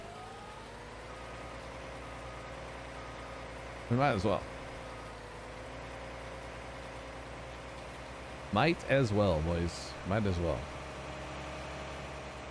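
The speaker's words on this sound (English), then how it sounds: "let's get our tractor in there" A tractor engine idles in Farming Simulator 19, a steady low drone running through the whole stretch while someone talks over it in a few short bursts.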